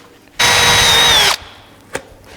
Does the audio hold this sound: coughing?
no